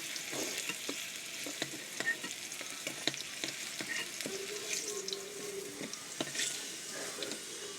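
Pointed gourd (potol) frying in oil in a pan, a bright hissing sizzle broken by frequent spatula taps and scrapes, moderately quiet and steady.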